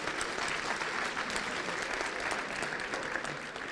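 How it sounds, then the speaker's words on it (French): A conference audience applauds steadily, the dense clapping filling the room at an even level throughout, with no voices heard over it. "On peut applaudir."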